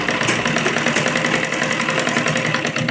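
Sewing machine stitching gathered skirt fabric, a steady fast mechanical whirring with a rapid even needle clatter, close and continuous with no talk.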